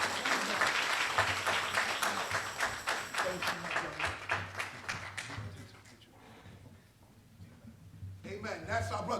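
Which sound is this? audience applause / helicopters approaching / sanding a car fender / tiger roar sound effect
audience applause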